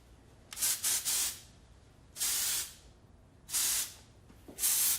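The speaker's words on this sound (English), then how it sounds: "It's got the dry shampoo, spray wax, and hairspray all in one can." An aerosol hair texturizing spray hisses in short bursts: three quick puffs, then three longer sprays spaced about a second apart, close and crisp.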